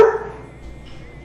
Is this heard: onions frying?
no